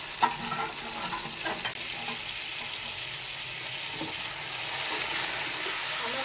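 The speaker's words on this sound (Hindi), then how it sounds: "ये हमारे पास नमक वाला गोश्त है, ये हम मसाले के अंदर फ्राई करेंगे।" Salted, boiled beef fries in masala with garam masala for beef yakhni pulao, giving a steady close sizzle with a few stirring scrapes and taps near the start, and growing slightly louder toward the end.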